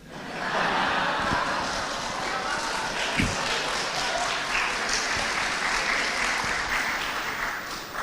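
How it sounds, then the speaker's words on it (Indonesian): Audience applause fills a large hall, steady and sustained clapping from many hands throughout, with a faint voice and occasional thumps mixed underneath. "nggak usah tepuk tangan nanti dikira pendukung saya."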